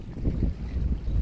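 Gusty wind buffets the microphone outdoors on a cold, rainy Norwegian beach, with low rumbling bursts rising and falling over a second or so.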